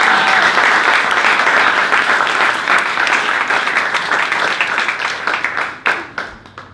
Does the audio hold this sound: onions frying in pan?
no